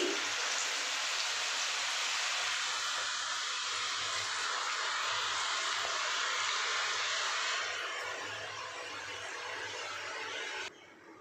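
Wheat flour kaara thukkada dough pieces fry in hot oil, a loud dense continuous sizzle close by that eases slightly near the end before cutting off abruptly.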